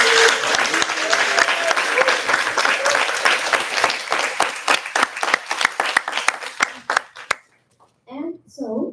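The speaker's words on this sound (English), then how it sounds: "So please give them a round of applause." An audience gives a loud round of applause for newly elected student officials. The dense clapping thins into scattered claps and stops, and a voice speaks briefly afterward.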